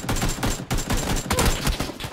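Rapid bursts of gunfire from a weapon in the battle royale game PUBG, loud and close, firing almost continuously across the span with brief gaps between volleys.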